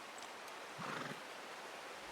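A horse in the video game Red Dead Redemption 2 gives a single short whinny, faint and somewhat distant over a soft outdoor background hiss.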